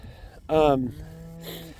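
Cattle in a grazing pasture give one loud, close moo, followed by a softer, drawn-out second call.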